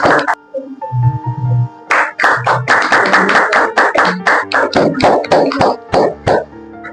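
A class at a farewell party claps hands, loud close individual claps at first, then a rhythmic run of sharp, fairly even claps from a small group, with brief vocal sounds in between.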